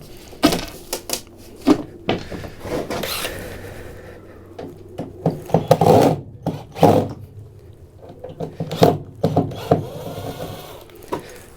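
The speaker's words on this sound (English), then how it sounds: "This will probably all lift out as one." Plywood floor lining is pried up and lifted out of a work van, giving irregular woody knocks, creaks and clattering thumps at close range, with quieter scuffing between them.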